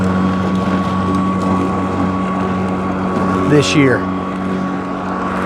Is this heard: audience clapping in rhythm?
no